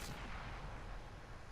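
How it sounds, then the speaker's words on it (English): A tank's main gun fires in World of Tanks, a single heavy artillery-like blast that fills the clip with a loud, sustained rumble and decaying boom, with no talk over it. "In fact, I fire my gun"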